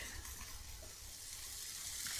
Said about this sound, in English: based upon the sounds that I'm hearing on the grill